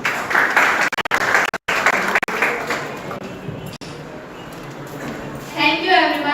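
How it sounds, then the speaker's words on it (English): An audience at a hackathon ceremony applauds to welcome dignitaries, a dense wash of clapping that fades over several seconds as a voice begins speaking near the end. "let us welcome our respected dignitaries with a huge round of applause"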